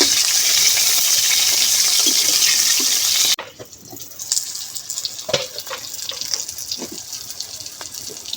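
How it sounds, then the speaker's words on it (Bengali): Prawn paturi wrapped in bottle gourd leaves frying in a pan, a loud close hiss for about three seconds that cuts off sharply as the lid goes on, followed by softer crackles and light clicks. "এখন ঢাকনা দিয়ে ঢাকে ঢাকে ভাজবো"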